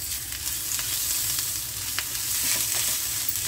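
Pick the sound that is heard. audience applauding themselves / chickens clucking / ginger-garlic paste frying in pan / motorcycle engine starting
ginger-garlic paste frying in pan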